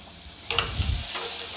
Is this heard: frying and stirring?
yes